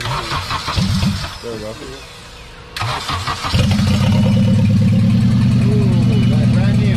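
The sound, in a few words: K-swapped 8th gen Honda Civic engine starting and revving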